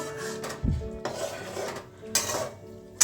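Fish in a mustard pickle sauce gets a brief stir, two or three short scraping rubs of a spoon against the pan, close and fairly quiet, ending on a light clink.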